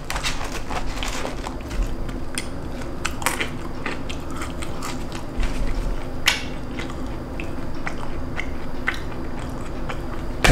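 Close, steady chewing and crunching of a hamburger with crispy bacon and fries, with irregular wet bites and snaps over a constant background murmur and clatter, no talk.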